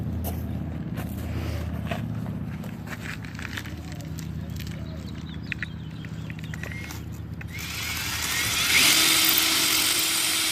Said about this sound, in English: is to drill your holes